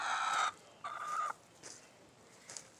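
A large rooster and hens in a backyard flock cluck and call in short bursts, a couple of loud close calls then fainter clucks, with no one speaking.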